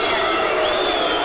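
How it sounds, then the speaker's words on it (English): Boxing arena crowd roars and boos in a sustained, dense wash of voices after a disqualification, loud and steady without a break. "Programs, rubbish being thrown into the ring, the crowd booing."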